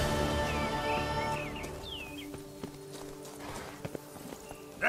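Roach the horse's hooves clip-clopping in The Witcher 3: Wild Hunt, a rhythmic series of hoof strikes that starts out loud and continues more faintly, with bird calls chirping over it.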